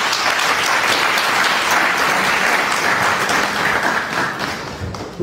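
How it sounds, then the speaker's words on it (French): Sustained applause from a large audience, a thick wash of clapping that holds steady and then starts to thin out at the end. "Il faut les applaudir, s'il vous plaît."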